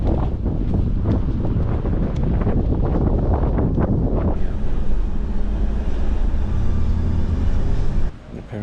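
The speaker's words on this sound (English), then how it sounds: "It's very windy here." Strong wind roars across the microphone near Gran Canaria airport, a loud continuous buffeting rush that stays heavy throughout and drops off abruptly near the end.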